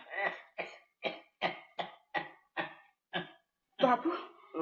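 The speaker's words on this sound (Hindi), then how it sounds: "बाबू, तुम्हारी खांसी तो बहुत जोर पकड़ गई है" A man coughs hard in a run of about eight separate harsh coughs at a steady pace, close and loud. A burst of throaty, voiced coughing or groaning follows at the end.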